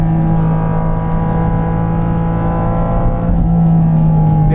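A Porsche Cayman GT4 RS engine revs hard and steadily at high RPM, heard loud and close from inside the car as a sustained, buzzing wail, the pitch briefly dropping then climbing again near the end.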